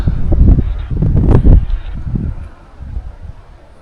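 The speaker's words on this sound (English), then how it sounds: "sorry it's kind of windy out here" Loud, gusty wind buffeting the microphone in low rumbling bursts, easing off toward the end.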